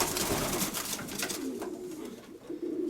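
A pigeon coos in low, soft, repeated murmurs, close by, against a hiss of background noise.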